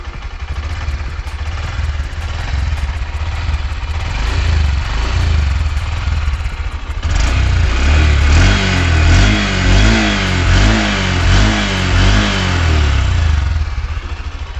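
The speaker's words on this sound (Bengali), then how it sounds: "এবং গাইজ হালকা যদি থ্রটেল দিই" A 2025 Honda SP 125 motorcycle engine idles and is then lightly revved, rising and falling in several close, loud surges above a constant low engine hum, with no talking.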